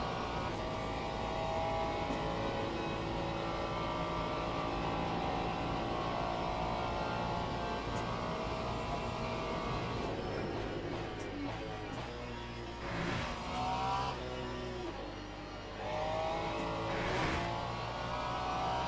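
A Daytona GT3 race car engine in a racing video game at Monza drones steadily through gear changes, with brief revving bursts and shifts toward the end under the constant engine hum.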